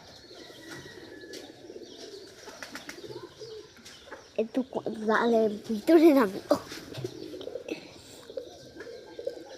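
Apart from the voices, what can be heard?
pigeons cooing while eating rice mixed with curry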